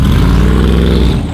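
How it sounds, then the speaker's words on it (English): A Mercedes G-Wagon's roughly 600-horsepower V8 burbles at idle with a deep, loud, steady low rumble that stays close and even, easing slightly toward the end. "the burble it has is like nothing I've ever heard before"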